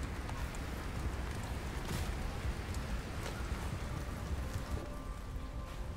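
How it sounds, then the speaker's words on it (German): Hail falling in the snowy video game Subnautica Below Zero, a dense continuous patter of pellets striking surfaces, steady and fairly close, with a few sharper hits standing out. "sobald wir rauskommen, fängt es an zu hageln"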